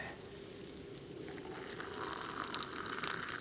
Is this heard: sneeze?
no